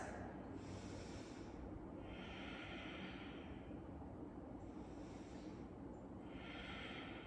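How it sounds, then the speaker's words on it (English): Slow, deep breaths during a yoga pose with arms reaching overhead, a soft airy rush that swells and fades about three times over a steady low background hiss. "Reach the arms up and take 3 breaths."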